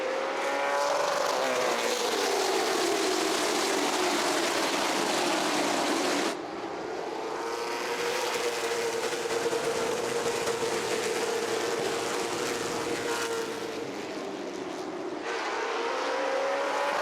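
CARS Tour late model stock cars roar around the track at Ace Speedway in North Carolina as the green flag falls for a 225-lap race, a loud sustained pack of engines with pitch sweeping as cars pass, and no commentary over it.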